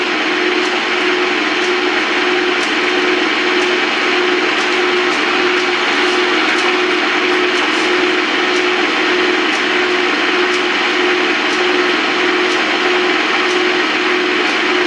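A Pratt and Whitney lathe spindle running in at about 100 RPM, a steady loud mechanical hum and whir with a constant drone and faint regular ticking, alone without talk.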